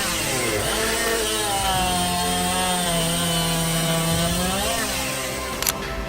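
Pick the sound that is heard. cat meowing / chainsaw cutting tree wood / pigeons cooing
chainsaw cutting tree wood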